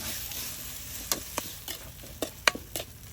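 A Shan-style bean salad with chili, seasoning powder and salt being stirred by hand, a soft hiss under a few sharp, irregular clicks and scrapes of the spoon against the bowl.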